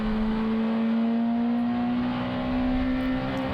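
A 4-cylinder British Touring Car racing engine from the 1990s holds a steady, loud droning note with a slight pitch rise, heard alone with no talk.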